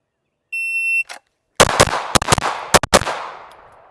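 A Ruger RXM pistol fires at a shooting range after a timer beep: a rapid string of six loud, sharp shots with short gaps, the last one ringing out into a fading tail.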